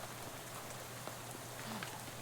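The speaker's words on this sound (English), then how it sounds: "It's attached to a fella that doesn't want to go wandering around in the rain at night." Quiet, steady rain patters at night in the Shadows Over Loathing game, a soft continuous hiss of drops on a surface with no voices, faint and even throughout the short stretch.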